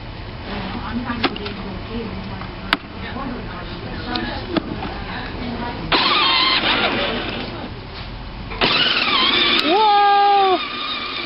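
A ride-on toy tractor driven in reverse, its motor droning steadily and rising in two louder surges while people talk and a child squeals nearby.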